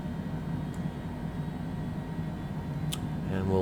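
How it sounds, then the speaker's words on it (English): The left engine of a twin-engine aircraft spools up during startup at San Antonio's KSAT airport: a steady, close mechanical drone that builds toward the end as a rising tonal whine emerges. "Hear that left engine spooling up."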